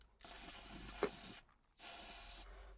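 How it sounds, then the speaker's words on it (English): A can of WD-40 is sprayed into a hole in a vehicle in two close, steady hissing bursts, the first about a second long and the second slightly shorter, with a brief pause between them. "Go ahead and find a can of WD-40 to spray this hole real quick."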